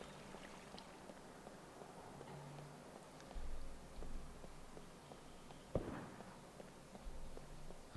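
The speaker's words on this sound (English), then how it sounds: "That was a gunshot." Distant gunshot in the survival video game SCUM: a single sharp, fairly faint report that rings out once over quiet ambient background and low rumbles.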